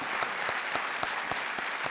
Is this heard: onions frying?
no